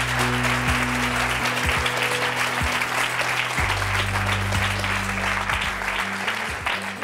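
A French talk-show studio audience applauds as a guest comes on stage, dense sustained clapping that carries steadily throughout, with low tonal music running underneath.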